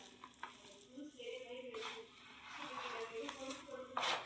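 Mango pickle tempering of cumin, fenugreek and mustard seeds sizzling in hot oil, a continuous crackling hiss that surges and fades in waves, with a sharper burst at the end, close by and under some talk.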